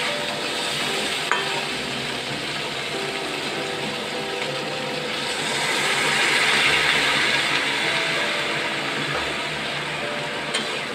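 Drumstick vegetable stems being stir-fried with salt, turmeric and sugar, giving a steady close sizzle with scraping stirs throughout, swelling slightly louder midway, with no talking.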